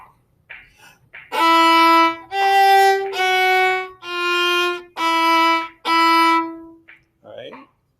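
String orchestra sounding a chromatic descending scale by half steps, six sustained bowed notes in a row, each held about a second with short breaks between. Brief plucks and rustles frame the scale.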